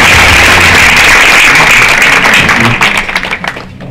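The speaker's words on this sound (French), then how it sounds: "Vous pouvez l'applaudir, s'il vous plaît" An audience at a Mash Up Nantes conference event applauds a returning speaker, loud, dense clapping from a full room that holds steady and then thins into scattered individual claps before dying away.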